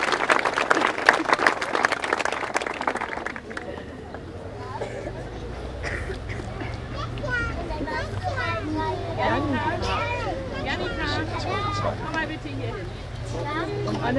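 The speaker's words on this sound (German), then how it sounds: "Nochmal einen kräftigen Applaus." A church congregation at a baptism service claps briefly and loudly at the start, then the applause dies away into murmuring voices, children's chatter and a low hum.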